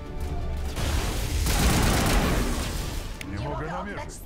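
Dense bursts of sci-fi gunfire and explosive booms from a firefight in Mass Effect Legendary Edition, loud and continuous, with a voice speaking briefly near the end.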